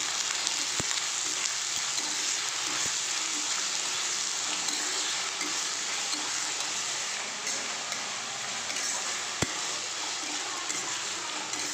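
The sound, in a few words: chowmein frying in pan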